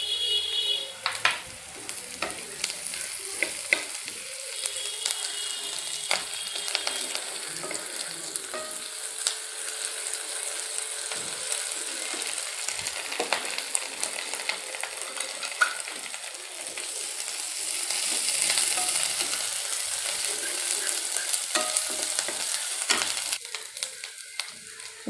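Curry leaves and ginger garlic paste frying in a pan for mushroom masala, a loud continuous sizzle with sharp crackles and occasional scraping stirs, close up and uninterrupted by speech.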